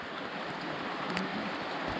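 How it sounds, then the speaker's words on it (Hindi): Rain falling in a mountain village, a steady, dense hiss of drops that runs evenly throughout with no voices over it. "अब ज़रा बारिश से बचते हैं भाई क्योंकि बारिश हो रही है"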